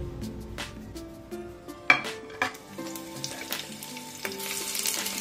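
Garlic and chilli pieces sizzle in hot oil in a kadhai, a close, steady crackling fry with scattered pops and a few light clinks of a utensil against the pan, no voices.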